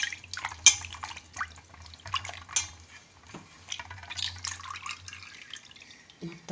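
Free-range country chicken pieces are washed by hand in a bowl of water, with faint irregular splashes, drips and light knocks against the vessel, quiet and close.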